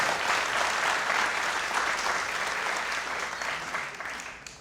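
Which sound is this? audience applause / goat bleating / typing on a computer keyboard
audience applause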